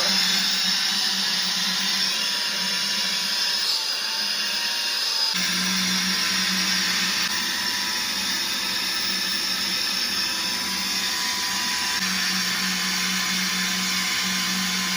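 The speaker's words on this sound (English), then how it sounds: "Here's the blower." Saker vacuum cleaner running as a blower to inflate an air mattress, a steady loud whirring hum that shifts slightly in pitch partway through and continues unbroken to the end.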